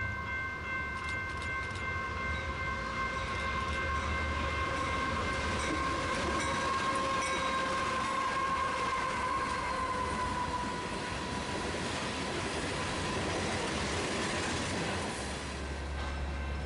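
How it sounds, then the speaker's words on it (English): A BNSF coal train led by a GE AC44 locomotive rolls past with a steady rumbling roar and sustained tonal engine whine, loud and continuous for the whole stretch, with no voices. "Our next BNSF train showed up, which was a coal train being powered by one of the few AC-44s."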